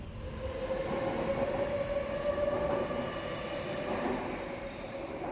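An Istanbul M2 metro train runs steadily, with a continuous loud rumble and a sustained wheel squeal or whine over the rolling noise.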